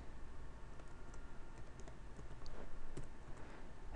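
A password is typed on a computer keyboard as a quiet run of light key clicks, faint and uneven over a noisy room background.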